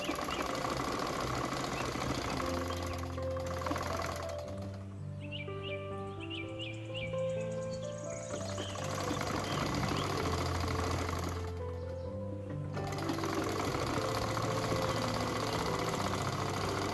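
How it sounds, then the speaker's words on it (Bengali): A sewing machine runs a straight seam on women's salwar pants, its rapid, even mechanical stitching whir steady and close, broken by two brief pauses, with faint chirping in the background. "দেখুন পুরোটাতে সোজা একটি সেলাই দিয়ে নিলাম।"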